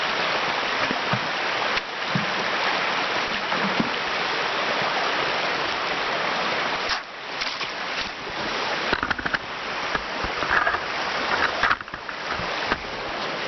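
Creek water rushing and splashing steadily at an off-grid campsite, a close, broadband wash of flowing water with intermittent louder splashes and no voices.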